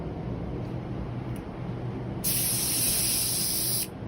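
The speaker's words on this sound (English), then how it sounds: "I'm going to do a quick pattern spray" After a couple of seconds of low background rumble, an electrostatic paint spray gun, electrostatics switched off, hisses in one sharp, steady pattern-test burst lasting about one and a half seconds, then stops.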